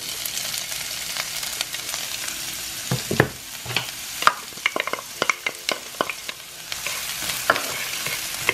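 Onions for a lobster and crab egg roll filling hit a hot pan and sizzle steadily, with a string of sharp spoon or spatula clacks and scrapes as they are stirred, close and clear with no talking.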